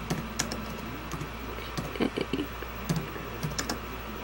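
Computer keys clatter in short irregular bursts of light taps, close and fairly quiet over a low steady hum.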